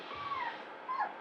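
Young puppies in a box give two thin, high whimpers, soft and close, with a short gap between them and no talk over them.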